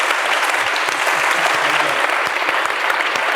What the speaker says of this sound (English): I know you've just done your applause and don't feel you need to repeat it.